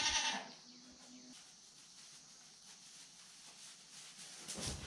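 A goat bleats loudly up close at the start, then quiet background follows, and a second bleat cries out near the end.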